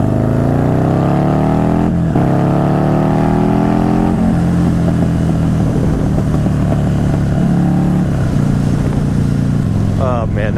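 A motorcycle engine revs hard and climbs through the gears in a rising, loud drone, then drops back to a steady rumbling run, with a rider talking over it.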